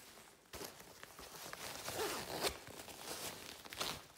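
A zipper is pulled along a large zippered side pocket on an Orbit Baby G5 stroller, sounding as a close rasping run of roughly three seconds with a few louder tugs and no talk.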